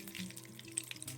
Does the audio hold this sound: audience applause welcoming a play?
no